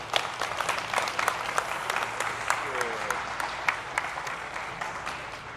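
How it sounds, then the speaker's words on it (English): An audience applauds steadily, a dense patter of many hands clapping at moderate distance, lasting throughout without letting up. "Round of applause for our judges"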